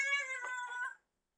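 A cat gives a single clear meow close by, lasting about a second and then falling silent, with no other sound around it.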